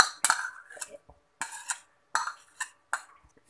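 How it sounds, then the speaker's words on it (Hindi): A hand beater whisks 200 ml of cream in a bowl for homemade mango ice cream, producing about five quick rhythmic bursts of scraping strokes and light metallic clinks, close and fairly quiet. "अब हम इसको बीटर से बीट करेंगे"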